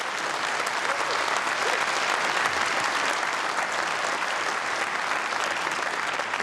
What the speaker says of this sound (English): and the members applause